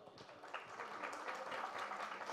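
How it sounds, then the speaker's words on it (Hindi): Audience applause at an OTT platform launch event for films and web series, a faint, steady patter of clapping from a crowd that holds for a couple of seconds. "एक बार जोरदार ताली होनी चाहिए दोनों दोनों मूवीज और वेब सीरीज के लिए"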